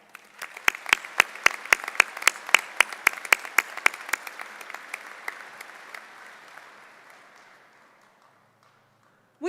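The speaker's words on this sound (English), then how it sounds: "Please join me in saluting our faculty with a round of applause" A commencement audience applauds the faculty, with a few loud, distinct claps standing out over a softer, broad wash of clapping that gradually thins and fades to near silence.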